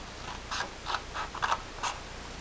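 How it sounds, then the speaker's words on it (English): Scissors snip through paper while trimming a piece for a handmade Christmas card, six short, crisp cuts in an uneven rhythm, close and fairly quiet. "I'm just going to go ahead and cut that."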